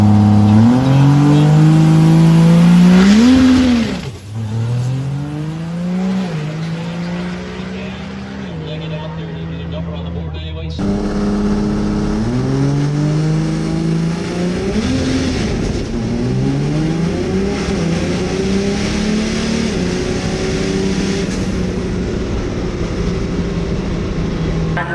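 Diesel truck launching hard down a drag strip at a summer diesel showdown, tires spinning, a loud roaring engine with rising and falling revs that drops briefly around four seconds, then surges again and holds steady and close.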